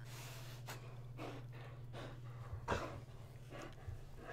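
A pet dog in The Sims 4 makes short snorting and huffing bursts with breathy gasps over a steady low game hum, fairly faint and spaced irregularly, with no talk.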